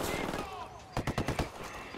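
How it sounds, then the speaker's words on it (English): Gunfire in Ghost Recon Wildlands: a rapid burst of about five loud, close shots, evenly spaced, breaking out in the middle after a stretch of ambient rumble. "Opening fire."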